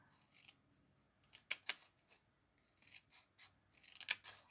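Small scissors snip through material in a quiet room, with a few sharp, crisp cuts scattered across the stretch and faint rustling in between.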